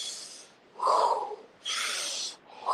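Deep, continuous breathing during a breathwork session: slow, strong inhales and exhales alternating in a steady rhythm, close and breathy, with no talking.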